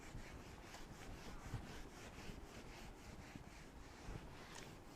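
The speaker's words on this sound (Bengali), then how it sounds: "এগুলো আমি তাহলে সব মুছে দিচ্ছি।" A teacher wipes writing off a board in a physics classroom, a steady scrubbing rub that repeats in short strokes with no talk over it.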